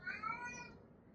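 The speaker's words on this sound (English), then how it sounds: "My cat is trying to start a howl." A house cat gives a short, faint drawn-out meow-like howl, a single rising-and-falling call heard close in a quiet indoor room.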